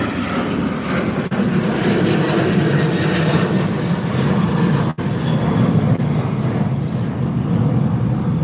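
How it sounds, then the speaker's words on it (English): An American Airlines airliner passes overhead at Chicago O'Hare airport with a loud, steady jet roar that fills the whole stretch without letting up. "Here's another one, zooming overhead. Another American airline."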